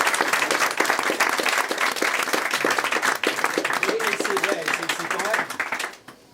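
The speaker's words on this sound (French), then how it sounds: "on va l'applaudir encore" Steady audience applause fills a room at a talk event after a musical and artistic performance, with dense clapping and a voice speaking partway through before the clapping fades out at the end.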